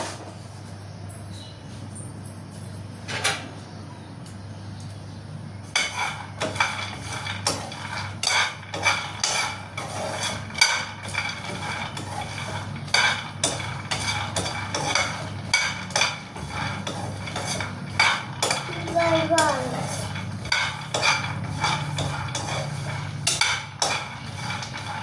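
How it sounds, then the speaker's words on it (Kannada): Peanuts roast in a pan for peanut chutney while a spoon stirs them. Close, repeated metallic clinks, scrapes and rattles run almost without a break, with a low hum underneath. "ಶೇಂಗಾ ಚಟ್ನಿ ಮಾಡ್ಕೊಳಕ ಶೇಂಗಾ ಹುರ್ಕೊಳಕತ್ತೇನೆ."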